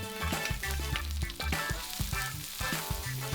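Garlic hits a pan of hot frying spices, giving a steady loud sizzle with stirring scrapes over a rhythmic musical backing.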